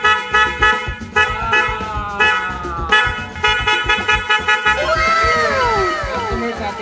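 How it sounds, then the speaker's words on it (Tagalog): A G-Star aftermarket horn fitted to a Yamaha NMAX scooter honks in a string of short, loud, bright blasts, then a longer sustained tone with wavering pitch near the end. "Kinabit na agad yung G-Star horn."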